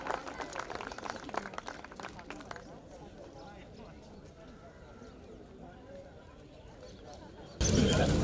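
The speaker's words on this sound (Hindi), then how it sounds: "एक बार जोरदार तालियों से स्वागत करेंगे निशी पांडे और तिग्मांशु धूलिया जी का" An audience at a literature festival in Lucknow bursts into loud, dense applause to welcome guests Nishi Pandey and Tigmanshu Dhulia; the clapping fades to a quieter murmur, and a sudden loud noise cuts in at the very end.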